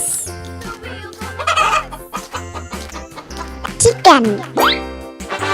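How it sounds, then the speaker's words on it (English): A cartoon chicken call from a children's animal-learning bowling game, with a few bright clucking and crowing bursts over bouncy game music. "Chicken."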